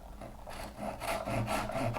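A small hand saw trims a turned wooden Christmas tree ornament at a workbench, making quiet rasping strokes that grow slightly stronger after the first half second, with about four back-and-forth pulls.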